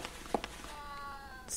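A cat in the Fragile Dreams video game gives a faint, short meow amid quiet background tones and a couple of soft thumps, ending with a brief hiss-like burst.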